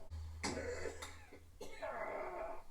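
A man coughs and clears his throat in a dramatic scene from the Better Call Saul finale, a couple of rough, hacking bursts separated by short pauses, close and dry.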